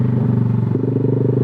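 A motorcycle fitted with an Eternal aftermarket exhaust revs steadily and loudly close by, its throbbing engine note climbing in pitch partway through, with no talking.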